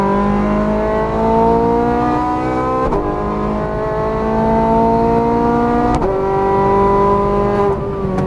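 A Ferrari F430 Scuderia's engine revs up hard on a Las Vegas race track, the loud, close exhaust note climbing in pitch, briefly dropping at two gear shifts, then pulling up again.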